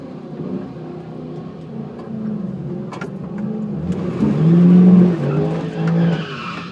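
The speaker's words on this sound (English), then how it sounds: "He's giving it a whole lot of burnout for some street tires" Convertible Mustang race car doing a burnout on street tires, with a loud sustained tire squeal and engine roar that swells toward the end, close by and without talk.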